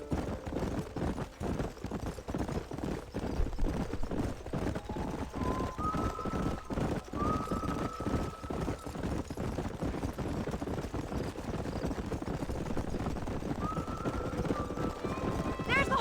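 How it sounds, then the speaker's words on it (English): Horses trot on a Wild West outing, their hooves clip-clopping in a quick, steady, near rhythm that lasts throughout, with occasional whinnies rising above the hoofbeats. "There's the horses!"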